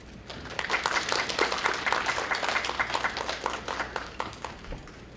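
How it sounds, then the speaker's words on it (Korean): Audience applause welcomes a professor at the 2021 KU-KIST Graduate School entrance ceremony at Korea University, a steady, lively round of many hands clapping at moderate distance that tapers slightly near the end. "한 분 한 분 소개될 때마다 따뜻한 환영의 박수를 부탁드립니다."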